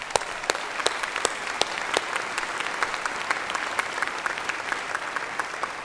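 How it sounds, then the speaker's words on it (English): Sustained applause from a large crowd at a spring university commencement ceremony, dense and even clapping with sharp individual claps cutting through throughout. "Please give them a round of applause."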